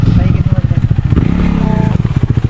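A KTM motorcycle at an overland camping site idles with a loud, close, pulsing engine beat, and voices talk over it.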